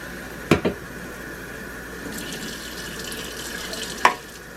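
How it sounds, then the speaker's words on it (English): A kitchen tap runs water into a cup being measured for rice, a steady moderate flow between a couple of sharp knocks near the start and end. "I need a cup and a half of water for my rice."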